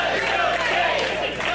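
A wrestling crowd at a RYSE Wrestling show cheers and yells loudly and steadily, a dense roar of many voices filling the hall.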